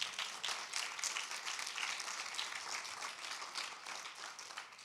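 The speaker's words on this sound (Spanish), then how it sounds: "Dele un aplauso al Señor." Congregation applauding at a church Bible class, a steady, even wash of clapping that carries on throughout with no talk over it.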